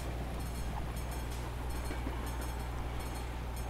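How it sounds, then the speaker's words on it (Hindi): A short freight train passes in Euro Truck Simulator 2 with a steady low rumble and faint, regularly spaced metallic clacks, heard from a truck cab. "ये भाई साहब छोटी सी रेल आ गई,"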